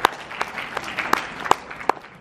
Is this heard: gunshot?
no